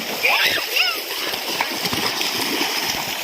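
People splash and play in a river on the Konkan coast, with continuous watery splashing and sloshing close by and children's voices and chatter mixed throughout.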